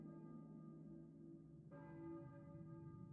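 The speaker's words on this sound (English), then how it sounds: "You can hear the bells in the background." Church bells toll with long, sustained resonant ringing in the Silent Hill PSX video game, a second strike entering partway through, faint and distant in the background with no talk.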